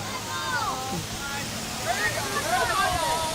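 Water flows steadily through a water feature at Pirates Island Adventure Golf in Daytona Beach, a constant close rush with people talking over it.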